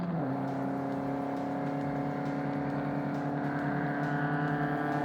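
Several vintage race car engines, including an MG and a Mercedes through a hairpin, drone together at a sustained high pitch, a loud, steady mechanical roar with layered tones and no voices.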